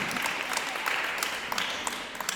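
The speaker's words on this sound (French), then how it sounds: "On applaudit Pascal quand même." Audience at a children's church service applauding, a steady patter of many hands clapping at moderate distance, with no voices over it.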